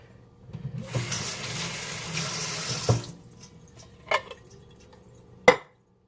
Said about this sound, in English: Just dump it into a colander